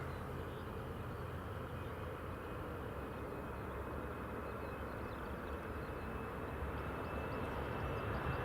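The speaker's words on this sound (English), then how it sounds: "Ryanair is just departing. Ryanair 737." A Ryanair Boeing 737 departing Newcastle Airport, heard as a steady, broad jet-engine roar that holds constant throughout, distant and moderately loud with no talk over it.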